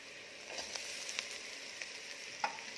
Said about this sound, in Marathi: खोबरं टाकून हे छान असं मध्यम ते मंद आचेवर भाजून घ्यायचं आहे